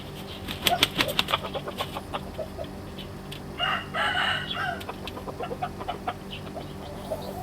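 A Thai fighting rooster of medium build crows loudly and close by, a long drawn-out call standing alone with other fowl stirring and brief wing flaps nearby.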